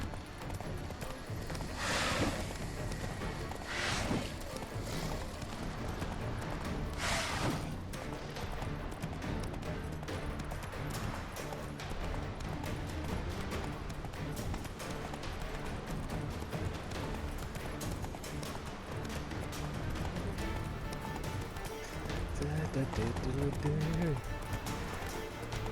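A horse galloping in The Witcher 3, rapid rhythmic hoofbeats running on under continuous game music and ambience, with someone talking over it.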